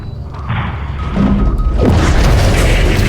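A rocket strike blows up an enemy anti-aircraft turret in Call of Duty: Modern Warfare 3, with a deep boom swelling into a sustained crashing, rumbling blast after a short whooshing lead-in.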